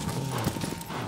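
Horse hooves clip-clopping steadily in the video game Shadow of the Colossus, a quick even rhythm of hoof strikes at close range.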